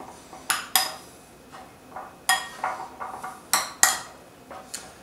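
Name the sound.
mixing veggies and protein in a bowl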